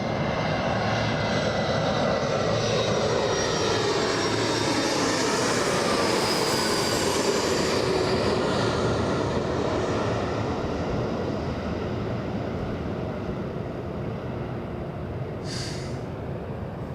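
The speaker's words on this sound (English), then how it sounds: "the little E-175 warming up the runway for the King of the Skies, landing in just a few seconds" An Embraer E-175 jet on the runway at Los Angeles International Airport gives off a broad, steady engine roar at a distance that holds throughout, with no talking.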